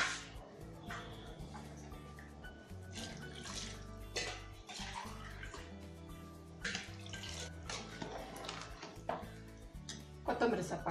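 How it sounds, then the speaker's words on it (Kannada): Water poured into a pot of rice for vegetable pulao in a home kitchen, a steady splashing flow that sits faint and low, with some clinking of a utensil toward the end. "ನೀರು ಹಾಕ್ತಾ ಇದ್ದೀನಿ"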